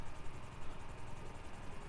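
A helicopter in Grand Theft Auto V gives off a continuous low rotor drone with a faint rhythmic chop, holding steady at moderate loudness with no one talking over it.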